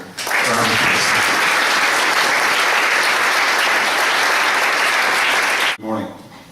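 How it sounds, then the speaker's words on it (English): Conference audience giving a sustained round of applause, loud and dense for several seconds before cutting off abruptly, followed by a brief voice. "let's put our hands together and give a round of applause"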